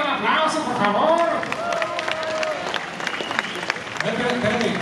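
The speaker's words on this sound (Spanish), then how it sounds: "un aplauso, por favor" Brief applause and crowd noise from an audience at a live comedy show in a Mérida venue, mixed under an emcee's voice talking over it.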